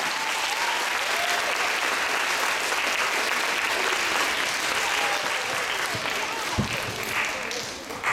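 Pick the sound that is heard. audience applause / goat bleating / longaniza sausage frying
audience applause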